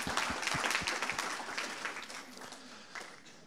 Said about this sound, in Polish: Dziękujemy, brawa dla Artura.